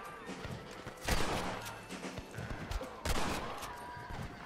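Gunfire in Red Dead Redemption, with two loud sharp blasts roughly two seconds apart amid scattered fainter shots and clatter, dense and close.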